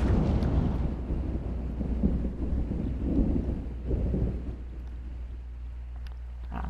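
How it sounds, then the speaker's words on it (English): A thunderstorm rumbles on without a break in the video game Ghost of Tsushima. Deep, heavy thunder rolls and rain noise fill the whole stretch, loudest at the start and swelling again midway, with no talking. "Jin is fighting in the thunderstorm rather than just thunder in the distance."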